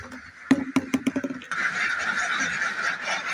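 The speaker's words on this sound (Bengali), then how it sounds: "আসেন আমি হাঁসের ঘরে যাব, হাঁসকে ছাড়তে হবে" Domestic laying ducks leaving their duck house, giving a rapid run of loud nasal quacks and honks up close, then a steady chorus of overlapping calls.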